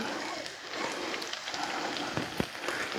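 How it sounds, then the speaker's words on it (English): Rain falls steadily and fairly loud, a dense patter with a few sharper drops and splashes throughout. "It's been raining nicely."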